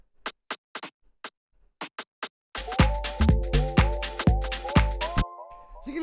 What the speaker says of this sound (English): the next thing that we have here is this rim shot,